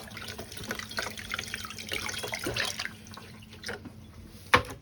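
Tap water runs steadily as items are rinsed for homemade golden syrup, a soft continuous splash and trickle close by with a brief louder clatter near the end.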